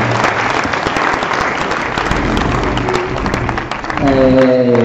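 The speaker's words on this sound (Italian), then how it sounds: "Chiederei un applauso." Applause from a school audience at a liceo civics lecture, steady dense clapping for a few seconds before tapering, with a voice starting at the end.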